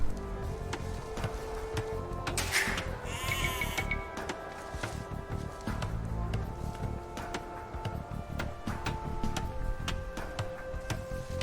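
Sheep bleat now and then in Age of Empires II: Definitive Edition over a steady, busy background of game ambience with faint ticking and chimes, no voices.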